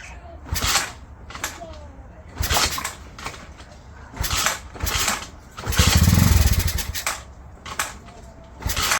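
A Pioneer Nevada 125cc motorcycle project engine, primed with easy start in the spark plug and carb, is cranked in repeated bursts that sputter and nearly fire, with one longer rougher stretch of almost catching between quieter gaps.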